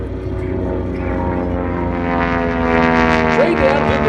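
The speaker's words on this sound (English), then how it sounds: "Watch him take this airplane." A propeller warbird airplane performing aerobatics at the Kirtland Air Force Base air show, a loud, steady droning engine with a rising pitch that swells as it nears, with an announcer talking over it.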